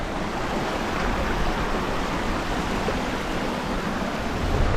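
A river flowing at a hill crossing in the Moffat Hills of Scotland gives a steady, close, full-bodied rush of water that holds even and unbroken throughout, with no talking.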